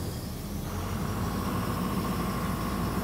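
A diesel air compressor just after start-up: a steady, loud engine drone with a constant hum and broadband noise, running without a break.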